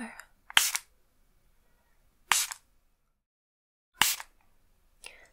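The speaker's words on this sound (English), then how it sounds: "I'm just going to give you a little spritz down with this" Water spritzed onto hair from a spray bottle during a relaxing hair wash: four short, close hissing sprays about a second and a half apart, with near silence between them.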